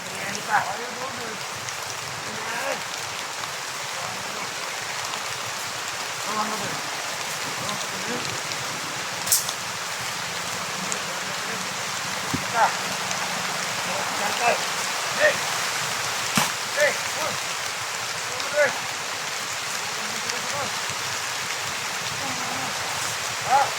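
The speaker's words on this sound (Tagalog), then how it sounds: "Umuulan na to." Rain falls steadily, making a constant, even hiss with scattered sharper drip taps on a surface throughout.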